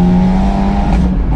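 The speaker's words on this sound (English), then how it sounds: "We get a lot more pops out the back as well, those kind of high-end kind of dumps of fuel into the exhaust" An Abarth 124 Spider fitted with a sport catalytic converter screams at high revs with exhaust pops, a loud close engine note held steady through the whole short burst.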